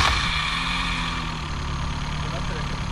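A Yamaha outboard boat motor idles at a boat shop with a steady, moderately close hum and faint harmonic whine, while people talk over it.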